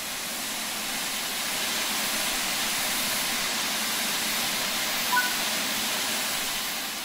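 Steady broadband hiss of steam venting from the open cylinder cocks of a standing steam locomotive in Train Sim World, continuous and fairly loud throughout with no talk.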